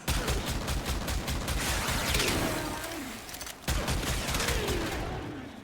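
Heavy, rapid gunfire in a sci-fi shooter, the Kuva Brakk shotgun pistol blasting in dense overlapping bursts that run continuously, with a brief pause before firing resumes, loud and close with no talk.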